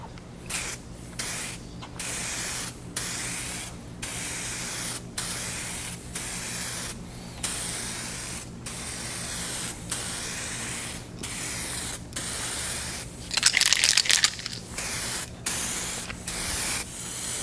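Spray gun laying clear coat over a Raptor bed liner surface, a steady close hiss broken by regular short pauses between passes, with one louder, sharper burst near the end.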